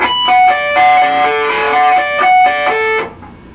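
An electric guitar rings out bell-like harmonics from the harmonic section of a song, with a few chimed notes that sustain and then fade to quiet.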